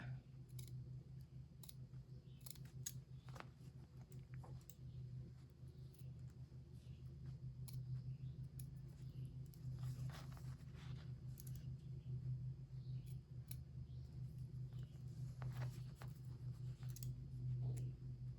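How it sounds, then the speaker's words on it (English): Sharp scissors cutting through knitted crochet stitches in scattered, soft clicks over a steady low rumble, a couple of stitches at a time, close by and quiet. "So I'm going to take my nice sharp scissors."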